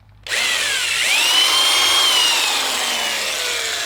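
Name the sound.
drill boring a dimple into the end of wood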